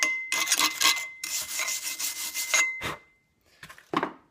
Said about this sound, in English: if you just brush up the welds. Kind of chip off some of the slag there.